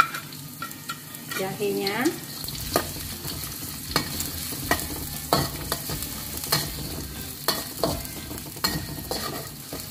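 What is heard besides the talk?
shallots and ginger sautéing in a pan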